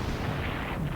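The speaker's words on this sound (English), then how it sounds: "Then you fire and destroy the artillery there." Artillery fires in the World War II strategy game Panzer Corps Gold during a Belgorod battle, a dense, loud booming burst of rumbling noise filling the whole second.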